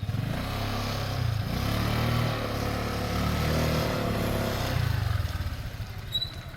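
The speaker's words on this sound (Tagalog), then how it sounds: "Pinapaikot ko muna yung motor." A motorcycle engine runs steadily at close range while the bike is turned around on a slippery path, its low rumble holding fairly even with small surges.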